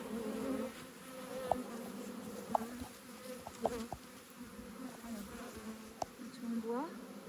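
Bees buzzing around a wooden beehive during hive work, a steady close insect drone with scattered brief clicks and taps from handling.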